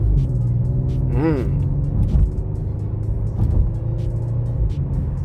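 A 2022 Genesis G70 Launch Edition in Sport Plus mode with deep engine and exhaust rumble as it accelerates and downshifts, loud and close, with a brief higher whine partway through.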